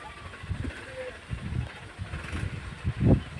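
A Mahindra Arjun 605 tractor hauling a heavy load labours uphill, its engine chugging in a low uneven throb that surges briefly near the end, with some noise in the background.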